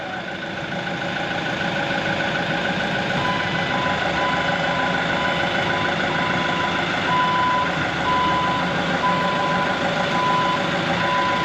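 A forklift reverses with a steady, evenly spaced backup beep sounding over a continuous low engine rumble, moderately loud and constant throughout.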